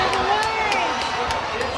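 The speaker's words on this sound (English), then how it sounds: "listening to the sounds of the race crowd" A horse race crowd at Churchill Downs cheering, a sustained wash of roaring voices from a large grandstand, loud and continuous throughout.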